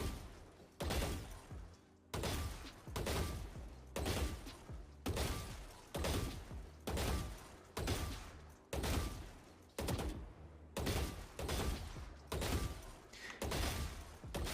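Burst gunfire in Valorant aim training: short, loud three-round bursts repeat at a regular pace, roughly one burst per second, each separated by brief quiet gaps.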